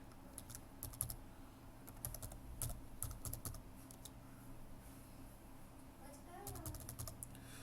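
Rapid keystrokes clatter on a computer keyboard in quick uneven bursts with short pauses, close and crisp against a quiet room.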